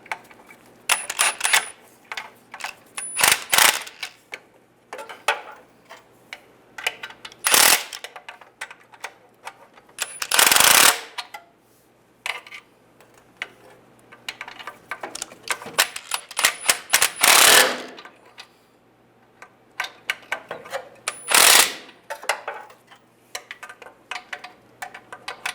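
A ratchet wrench tightens transfer case gasket bolts on a 2007-2013 Chevrolet Silverado, giving close, intermittent bursts of rapid metallic clicking with occasional sharp clanks and short pauses, and no voices.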